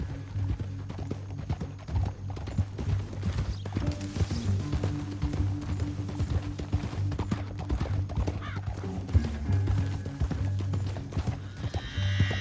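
Horse hooves clip-clop steadily in a Red Dead Redemption 2 canyon scene, a continuous rhythmic trot over a low droning music bed, close and moderately loud with an occasional whinny.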